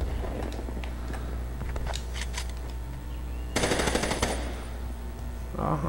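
Rapid automatic weapon fire while testing a gun in Black Ops 3 on PS3, with sharp bursts of shots, a louder sustained burst near the end, and a busy game-sound bed underneath.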